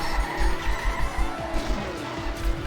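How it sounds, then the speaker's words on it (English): Tires squeal as a car skids and slides through a turn in the Trackmania racing video game, the engine droning underneath in a steady, pulsing rhythm, loud and continuous with no talking. "The car is sliding regardless."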